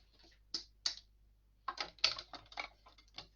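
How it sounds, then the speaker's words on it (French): Paper being cut with a handheld craft punch for a frosted-forest masking stencil: a few sharp isolated clicks followed by a faster run of crisp snipping taps, close and alone. "je découpe ici avec mon poinçon"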